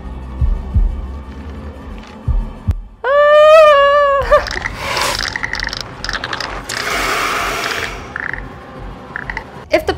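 Low, throbbing heartbeat thumps from the House of Ashes horror video game pulse through the first seconds, followed by a rising, wavering tonal whine and a dense mix of game noises.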